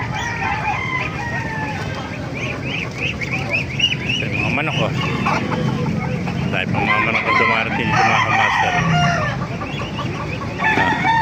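Roosters crow repeatedly amid busy clucking from many chickens at a rainy chicken market in Baliuag, Philippines, with voices chattering underneath in a noisy, crowded setting.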